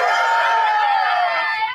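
A crowd of onlookers watching a one-on-one game at a basketball park, a steady wash of voices and cheering held close and loud before cutting off abruptly.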